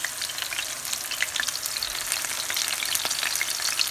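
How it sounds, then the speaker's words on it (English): Close, steady sizzling and crackling of chicken frying in a hot pan, with scattered pops and spits throughout. "if you just set the chicken into the frying pan, that won't happen"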